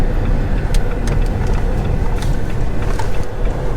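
A Jeep SUV driving at low speed while it turns through its turning radius, a steady engine hum and road rumble with faint wind noise, heard from inside the vehicle, no talking.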